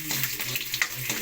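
Garlic and ginger sauté in a hot pan, giving a steady close sizzle and fry with brief stirring scrapes over about a second.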